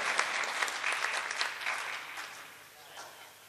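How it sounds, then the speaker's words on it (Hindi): An audience at a poetry mushaira in Noorpur applauds warmly to welcome a guest, with dense, steady clapping that gradually thins and fades toward the end. "भाई जोरदार तालियों से नफीस अंसारी साहब का इस्तकबाल किया जाए।"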